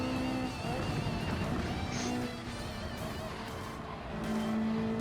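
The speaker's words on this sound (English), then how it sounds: "hitting the throttle to pull my car back on the line" A race car in Gran Turismo 7, in a Lamborghini versus Ferrari manufacturer race, accelerates under throttle with a sustained engine drone that dips and rises again, loud and continuous, with a brief tire squeal.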